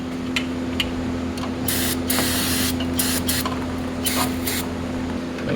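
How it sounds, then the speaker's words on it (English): Brake cleaner sprayed onto a brake line fitting on a B7 Audi RS4, several short hissing aerosol bursts of varying length over a steady background hum in a workshop. "Before putting the new line in, I'm going to use a little bit of brake cleaner"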